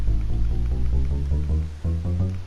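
Minecraft note block set on a wooden block, a series of soft, low plucked wooden tones rising step by step, close and clear over a faint hiss.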